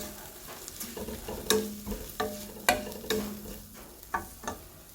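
Green chilies frying in a pan for beef pulao, a soft continuous sizzle broken by a handful of spaced stirring scrapes and taps, close and fairly quiet.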